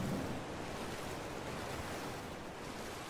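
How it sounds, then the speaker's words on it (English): A waterfall in ARK: Survival Evolved, a continuous broadband roar of rushing water, loud and steady with no breaks and no voices. "A hidden cave behind a waterfall."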